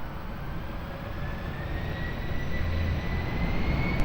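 A Finnair airliner taking off from runway 20 at Lisbon Airport, a loud steady jet engine roar with broadband rumble and a slowly rising whine, building gradually across the clip.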